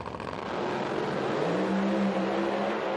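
Pro Mod Mustang drag car launching down the strip at an IHRA drag race in Milan, Michigan, a loud, steady engine roar with a rising tone that holds for the whole moment, with no voices.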